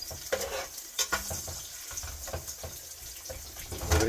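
Vegetable bhaji frying in a pan, with stirring scrapes and a sizzle and crackle that carry on throughout, along with scattered clinks and knocks from the kitchen. No one speaks.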